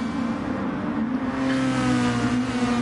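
Nissan Motul Autech GT-R race car engine in Gran Turismo Sport at Fuji International Speedway, a steady loud droning engine tone holding high revs with slight pitch shifts, alone without talk.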